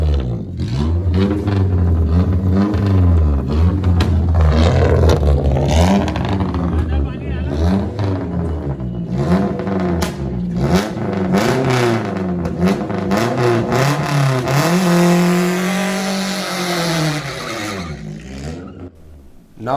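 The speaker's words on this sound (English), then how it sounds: "Now at this point, the car is already overheating and it's backfiring. Listen to the backfires carefully." A Fiat Premier 118NE car with an overheating engine revs hard during a failed burnout, the engine note rising and falling in loud surges with sharp popping backfires, the strain close and dominant throughout.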